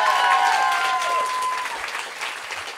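A comedy club audience applauds with dense, lively clapping that slowly thins toward the end, and a thin whistle rises briefly at the start.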